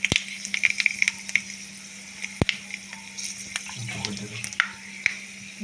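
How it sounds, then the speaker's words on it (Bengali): Two bay leaves and panch phoron fry lightly in oil in a kadai. The crackling sizzle comes with frequent sharp pops and clicks, and a brief muffled voice is heard midway. "তো কড়াতে ফের তেল দিয়ে দিয়েছি, একটু দিয়ে দেবো দুটো তেজপাতা, দিয়ে দেবো একটু পাঁচফোড়ন, একটু হালকা ভাজতে দেবো।"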